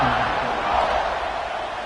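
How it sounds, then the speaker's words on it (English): A football stadium crowd buzzes after a touchdown, a steady distant wash of many voices and cheering, faint and continuous over about two seconds. "this crowd is buzzing after that last score"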